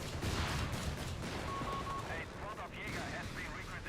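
Artillery and gunfire crack and thud in a Company of Heroes 3 battle, quiet and layered beneath a caster's continuous commentary, with scattered shots and explosions.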